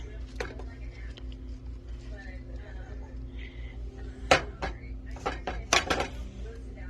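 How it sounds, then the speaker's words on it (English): Shredded cheese stirred into a pot of broccoli cheese soup, with a spoon clinking and scraping against the pot in scattered knocks, several louder taps near the end, under a faint steady hum. "And we stir that all into our mixture."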